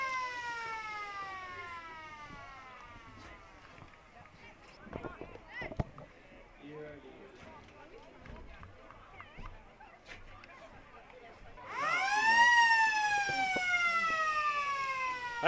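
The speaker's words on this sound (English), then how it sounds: "As the siren goes for the end of the third term." A long rising siren wail at an Australian football ground marks the end of the third quarter, cutting in near the end, loud over a noisy crowd, after a commentator-like voice and a faint earlier siren tail.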